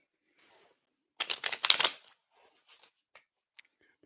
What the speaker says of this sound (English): Let's give these cards 2 more shuffle.